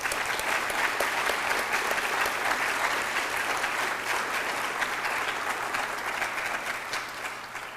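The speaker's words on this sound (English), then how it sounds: "Give Claire a round of applause." An audience at a museum exhibition evening gives sustained applause, a full crowd clapping evenly and loudly throughout before it begins to thin slightly near the end.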